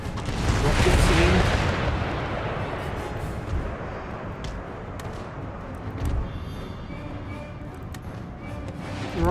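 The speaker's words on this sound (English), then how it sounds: "Rockets in." Rocket artillery barrage in Empire Total War, a dense rushing roar that swells early and fades into a rumbling wash of distant impacts, with one more thud partway through.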